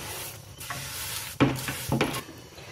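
Semolina laddu mixture is stirred in a pan for Diwali rava laddu, giving soft scraping strokes with two sharper clinks of the spoon against the pan, close and alone.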